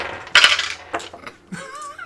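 Dice clatter onto a table during a tabletop roleplaying session: a sharp rattling burst, a couple of smaller bounces, then a brief settling tick, close and alone without talk.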